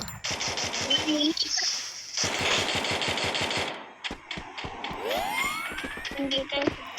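Video game gunfire rattles in rapid bursts of repeated shots, loud and close, with a rising whoosh of effects and an excited voice talking over the action.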